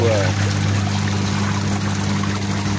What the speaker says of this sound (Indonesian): Ini kinerja mesin cuci Konka XPB80M2.